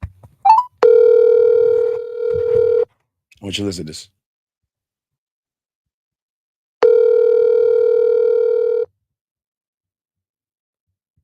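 Two long steady ringback tones while a phone call waits to be answered, each lasting about two seconds with a pause between, loud and close, with brief talk at the start and a short noise burst in the gap.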